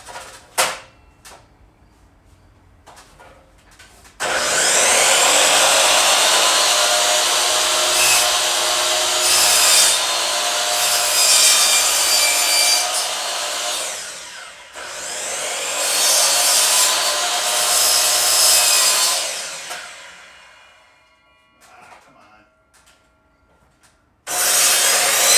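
Power saw cutting 45-degree angles into composite gate boards near a stitch weld, two long loud cuts with a short pause between them and a brief burst at the end, no talk.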